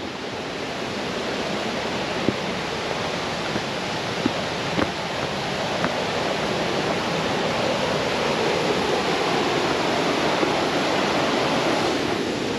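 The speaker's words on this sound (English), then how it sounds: "Actually, no, this is just some rapids on this side." River rapids rush in a continuous broadband roar of water, steady and close, with no break or change across the whole stretch.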